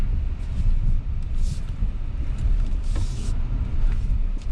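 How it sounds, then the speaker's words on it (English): A Hyundai Santa Fe Hybrid all-wheel-drive crossover is being driven. A steady, loud low road and engine rumble fills the cabin, with occasional bursts of wind noise and no speech. "we are in a hybrid all-wheel drive crossover"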